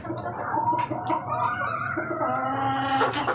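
Chickens and chicks cluck and cheep continuously at close range, with a rooster-like call rising near the end, the birds steady and busy throughout with no one speaking.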